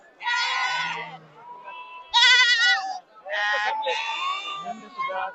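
Sheep and goats bleat at a goat market at the Talegaon Dhamdhere agricultural produce market yard in Shirur. Several loud, close cries come one after another over a quiet background.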